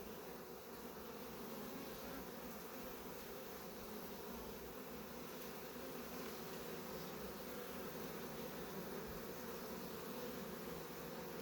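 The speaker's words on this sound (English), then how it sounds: "over time, these bees will die off and the new generations will all be from the same queen" Dense, steady buzzing of many bees at a hive entrance, some returning with pollen loads, continuous and close throughout with no voices.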